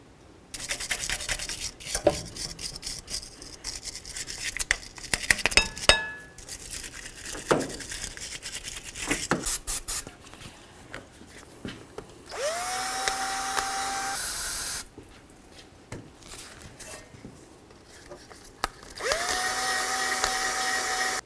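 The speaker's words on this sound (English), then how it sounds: "In the spirit of cleaning, let's continue on with that wire brush" A wire brush scrubbing the rear caliper bracket area of a 2000-2005 Buick LeSabre, harsh rasping strokes in bursts with pauses between them, broken by a couple of longer steady whirring passes.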